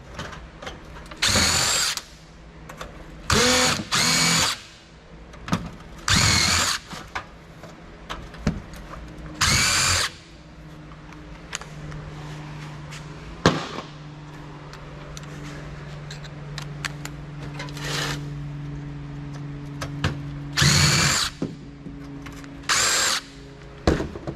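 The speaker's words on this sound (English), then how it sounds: "If I can get the power supply to unscrew, I'll take it out" Power drill unscrewing the power supply from a fire-damaged computer, with short bursts of whining motor starting and stopping, close and loud, plus occasional clicks and a sustained hum between bursts.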